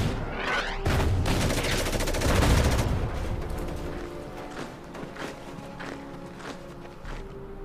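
Gunfire and artillery in the strategy game Order of Battle: Winter War, a dense burst of loud rattling shots early on giving way to scattered sharper reports and thuds that fade toward the end.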